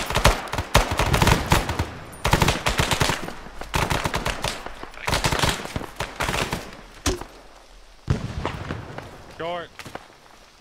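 Machine gun fire in Arma 3 rattles in repeated loud bursts separated by short gaps, close and sharp, with radio-style voices talking between and over the volleys and a distorted warbling tone near the end.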